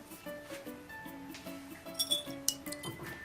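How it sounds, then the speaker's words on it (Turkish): Eggs and sugar whisked in a bowl for a cocoa brownie-style cake, heard as light, quick clinks of the whisk against a glass bowl. Soft steady tones, like quiet music, play underneath. "Yumurtam ve şekerimi çırpıyorum."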